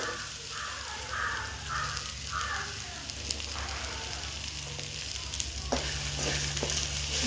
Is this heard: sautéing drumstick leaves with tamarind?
yes